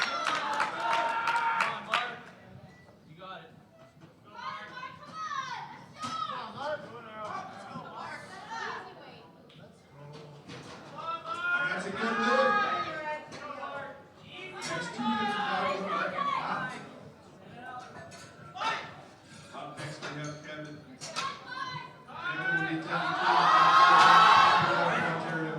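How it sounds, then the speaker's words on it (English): Crowd at a Canadian powerlifting nationals meet cheering a lifter's record squat attempt, a swelling mass of shouts and yells rising and falling in waves and peaking loudly near the end. "And the crowd getting behind Mark here to help him out with his Canadian record attempt."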